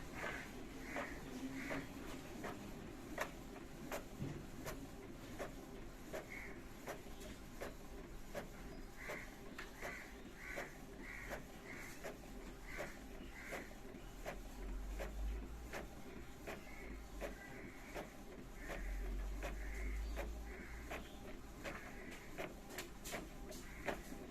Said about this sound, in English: Red light error has been gone and the paper is being copied.